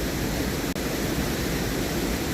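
Waterfall rushing as a steady, dense roar of broadband noise, continuous and close, with no voices over it.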